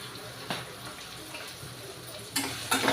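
Spices with salt and chili powder fry in a pan for bitter gourd curry, a soft continuous sizzle with occasional scraping stirs, louder near the end.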